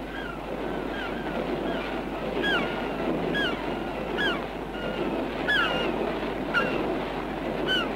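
Waves and wind at sea as a small boat sets out off the Isle of Wight, a steady broad wash with gusty wind noise on the microphone and a few high gull-like cries scattered through.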